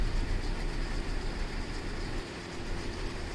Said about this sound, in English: Just listen and enjoy the sound of pure, slow speed, 2-stroke, inline, 6-cylinder diesel engine